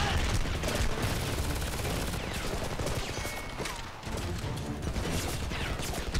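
Sustained automatic gunfire from a machine gun in the shooter video game Homefront, loud and dense with rapid overlapping bursts and explosions throughout, with a voice briefly audible beneath the din.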